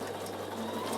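A Bernina sewing machine stitching a quilt clip and pin cushion, giving a steady, close, continuous mechanical whir at a fast even rhythm with no pauses.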